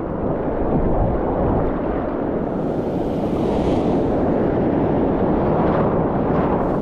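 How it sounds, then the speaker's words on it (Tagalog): A continuous loud roar of heavy ocean surf while fishing for giant trevally, broad and rumbling without pause, like big waves churning close by. "Lakas ng alon."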